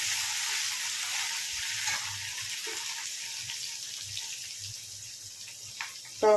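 Curry leaves and ginger garlic paste sizzle steadily in a hot pan of oil, a continuous close crackling hiss with small pops throughout and a brief louder clatter at the very end.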